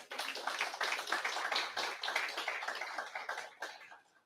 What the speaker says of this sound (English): Let's applaud him, please.